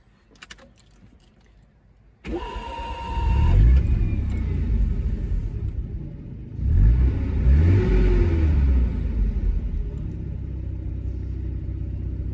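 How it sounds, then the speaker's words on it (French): A 1984 Mazda RX7's rotary engine starts with a cranking whir, then settles into a steady low idle that briefly swells louder in a second surge before easing back to an even, close hum. "je vais vous faire écouter le moteur"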